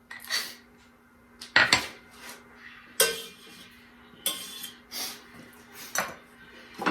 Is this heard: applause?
no